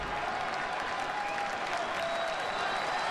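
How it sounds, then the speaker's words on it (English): A big crowd at a Padres vs Cubs baseball game roars and applauds steadily, a dense, even wash of cheering that holds for the whole stretch. "Big crowd here making some noise."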